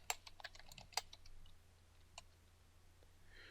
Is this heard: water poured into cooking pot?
no